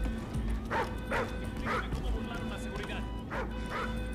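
A dog in the video game Call of Duty Ghosts gives a run of sharp, evenly spaced yips and barks mixed with whimpering, close and loud over a low game hum, while a voice talks.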